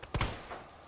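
A single sharp gunshot from a handgun in the Resident Evil video game, close and punchy, with a quick double-hit thump and a short fading tail afterward.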